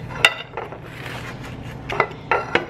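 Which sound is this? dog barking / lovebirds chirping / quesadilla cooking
quesadilla cooking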